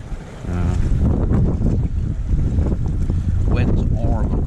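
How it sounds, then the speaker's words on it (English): Cold northeasterly wind blowing hard down a river, a steady loud roar with gusty buffeting across the microphone, heard alone while fishing from the bank. "Wind's horrible. It's proper cold northeasterly blowing down the river."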